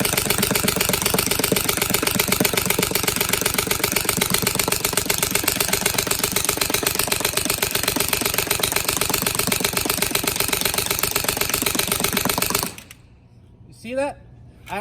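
A gun on full auto, an MCS box-magazine setup, fires a long rapid stream of shots at close range, then stops abruptly, leaving quiet with a few faint clicks and a short voice.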